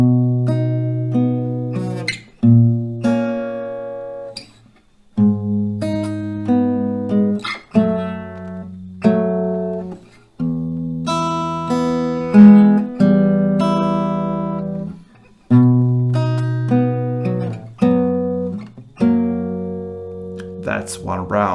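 Acoustic guitar slowly picking a song's melody, single notes plucked one at a time with pauses between phrases, close and clear with no talking.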